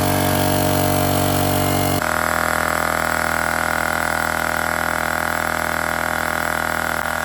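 A portable tire inflator pumps up a nearly flat car tire, giving a continuous close droning motor hum that shifts pitch abruptly after about two seconds and then runs on steadily, with no talk.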